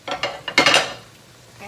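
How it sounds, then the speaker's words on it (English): Chorizo tipped into a hot pan for Kapampangan biringhi, a quick burst of close clatter and scraping with a short sizzle, then the sound fades to near quiet. "We're gonna put the chorizo."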